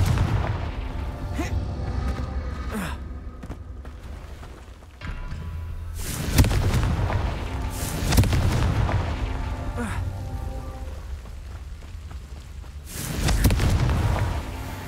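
Confringo fire-spell explosions in Hogwarts Legacy, several loud booming bursts spaced a few seconds apart over a rumbling game backdrop, with a voice speaking in between.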